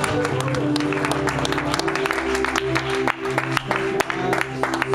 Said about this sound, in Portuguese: Você pode aplaudir o Senhor Jesus, bem forte, Senhor.